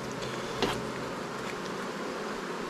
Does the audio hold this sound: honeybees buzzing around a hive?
yes